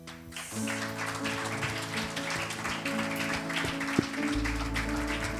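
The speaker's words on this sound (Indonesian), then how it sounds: "sambil masih terus tepuk tangan bagi Yesus" A church congregation at a Sunday worship service claps steadily together, a continuous patter over sustained organ or keyboard tones, moderately quiet and even.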